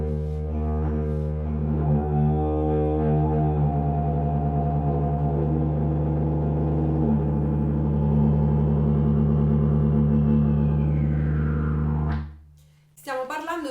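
A deep, steady didgeridoo drone with a low voice humming along, producing wavering overtones for about twelve seconds before cutting off abruptly.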